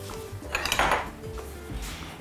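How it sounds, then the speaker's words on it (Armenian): A knife cuts a block of mozzarella cheese into small cubes on a kitchen surface, with a few light clinks and knocks of the blade against the board and dishes, close and fairly quiet. "Սկսենք մշակել մոցարելա պանիրը։ Հարկավոր է կտրատել փոքր խոր անարդիկների"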